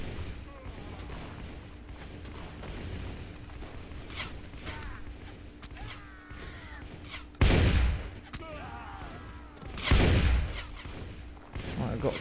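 Gunshots ring out during a castle siege in the Warsword Conquest video game: two heavy, booming blasts a few seconds apart stand out over battle noise and a faint background voice.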